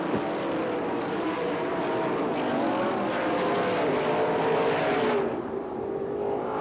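Sprint cars racing at Manzanita Speedway during the 1990 Western World Championship, a loud continuous engine roar with rising and falling pitch as cars circle the track, steady throughout with no talk.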